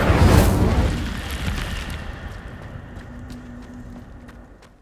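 The Incendio fire spell cast in the Hogwarts Legacy video game, a single loud whooshing burst of flame up close that fades out over a few seconds.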